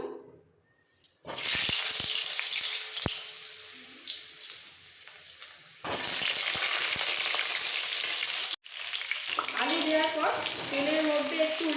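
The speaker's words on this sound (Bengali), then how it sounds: "সবার প্রথমে আলুগুলো ভেজে তুলে নেব" Loud, hissing sizzle of potatoes frying in hot mustard oil, starting abruptly and cutting out briefly twice before resuming.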